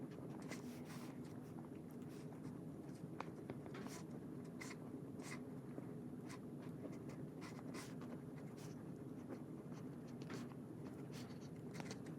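A pen scratches across paper during quiet journaling, making soft, irregular strokes over a steady, hissing background.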